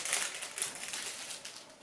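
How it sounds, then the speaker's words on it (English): Crinkly plastic bag packaging from an Amazon order being opened and handled, with a close, continuous rustle and a few sharper crackles over about two seconds. No one speaks. "If I can work out the plastic bag."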